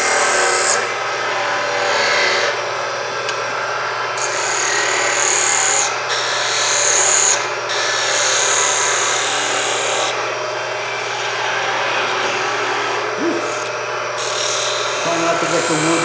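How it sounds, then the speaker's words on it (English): Skew chisel making a shear cut on spinning wood on a lathe, a continuous scraping, rasping hiss that swells and fades with each pass over a steady motor hum, with a voice speaking throughout. "I'm using it like you would doing a shear cut with a scraper, is what I'm doing with it at this point."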